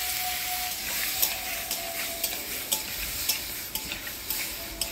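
Tomatoes with turmeric and salt stirred in a frying pan over a tempering of dried chillies and five-spice for a chutney, a steady sizzle with repeated light spoon scrapes and taps against the pan, no voices.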